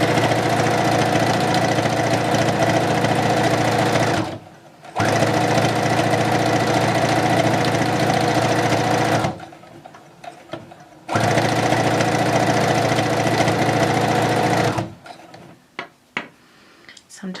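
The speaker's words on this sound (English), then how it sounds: "And we are going to sew all the way down just like we did when we sewed our two" Sewing machine stitching a headband seam, running loud in three sustained bursts separated by short pauses, with a few faint handling clicks after the last stop.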